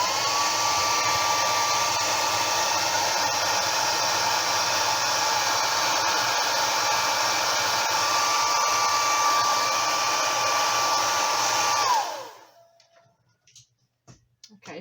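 A hair dryer blows steadily at full power to dry a layer of an art project, a loud, close, continuous whooshing roar that cuts off abruptly near the end, leaving near silence.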